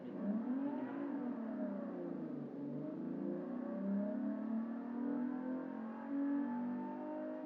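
A DMC DeLorean engine in a video game drones and slowly winds up through long gears, a steady synthetic tone rising gradually with little sense of quick acceleration, no voices over it.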